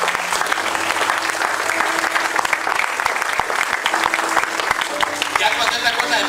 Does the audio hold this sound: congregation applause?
yes